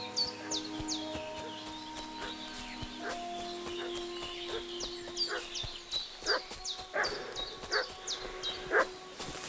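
A dog in a village in Kingdom Come Deliverance II barks repeatedly in short, sharp bursts that grow more frequent and louder toward the end, over a bed of birdsong and a distant rooster.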